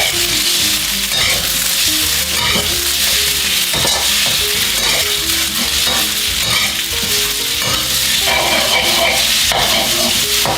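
Noodles and eggs scooped and mixed in a hot pan at a Thai cooking class, a dense continuous sizzle with repeated scraping and stirring strokes throughout.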